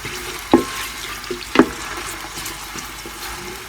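Browned onion and freshly added garlic-ginger paste fry in a pan for vegetable rice, a steady low sizzle broken by two sharp stirring scrapes and clinks, with no talk.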